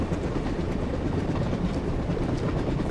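A train rumbles past in the video game Payday 2 with a dense, steady rolling roar and faint rhythmic clatter, close and continuous.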